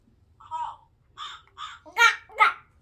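A crow caw button on a farm animal sound book plays a short run of recorded caws, about five harsh bursts in quick succession, close and moderately loud over a faint background rumble.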